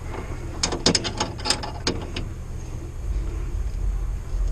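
A 14mm wrench turns a tubing fitting on an Azkoyen Zensia coffee machine during an electrovalve replacement, giving a cluster of close, light metallic clicks and ratcheting taps, then a quieter low hum.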